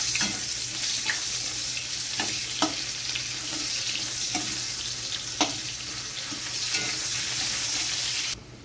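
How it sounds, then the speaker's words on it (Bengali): Chopped onion and a dried red chilli frying in hot oil in a home kitchen, a steady close sizzle with a few sharp spatters and scrapes of stirring spaced through it, ending abruptly. "দিচ্ছি আমি একটা কুচো করা পেঁয়াজ"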